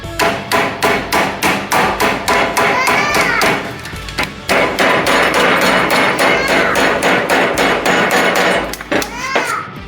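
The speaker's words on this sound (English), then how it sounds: "Trusty hammer, your rubber mallet, or your nail hammer" Rapid, loud hammer blows flatten a metal soup can in steady bursts, with a short pause midway before the pounding resumes just as hard.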